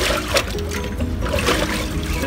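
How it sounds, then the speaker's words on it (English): Water sloshing and trickling as a dirty aquarium canister filter bucket is dipped and rinsed in clear water, a steady close splashing dribble throughout. "I'm gonna dip it straight into the clear water, and then we're gonna rinse it a few times"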